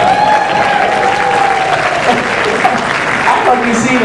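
Audience applause at a comedy magic mind-reading show, dense continuous clapping from the crowd over the full stretch, with a voice talking faintly underneath.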